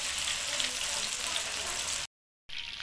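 Lahori-style fish fries in a kadai of oil with a steady, close, hissing sizzle that cuts out briefly to silence, then resumes.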